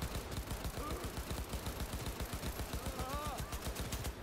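Rapid automatic weapon fire in Cyberpunk 2077, a steady stream of evenly spaced shots for the whole stretch, close and loud, with faint other game sounds behind.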